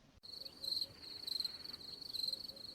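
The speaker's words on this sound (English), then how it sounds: "I'm inserting crickets there." Crickets chirp in a rapid, pulsing rhythm, a thin high trill repeating in bursts over a quiet background, inserted as a sound effect into a conversation recording.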